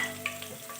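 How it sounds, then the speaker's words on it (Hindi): Cumin seeds dropped into hot oil for an aloo palak sabzi, giving a brief, soft sizzle with a small crackle, heard alone and close. "हाफ प्याली ये हमने ऑयल ले लिया था, इसको गरम कर लिया था। अब हम इसमें डालेंगे सबसे पहले ज़ीरा"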